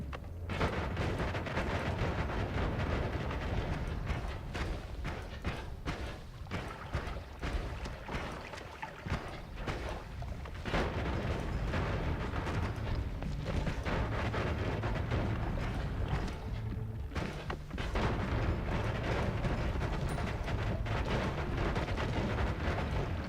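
Explosions in the Noita video game roar almost without pause, a dense, loud stream of booming blasts and crackling bursts that rumble on and on, with no voices.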